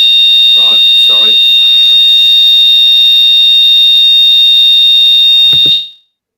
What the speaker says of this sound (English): Sorry, that was a fire alarm.